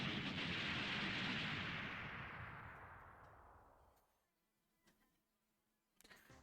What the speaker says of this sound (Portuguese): ele encontrou uma bomba que explode ele